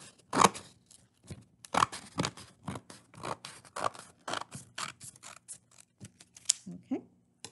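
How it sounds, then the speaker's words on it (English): Scissors cut up the middle of paper, with a series of crisp snips and rustles coming in irregular bursts, close and fairly quiet. "And you're going to cut up the middle."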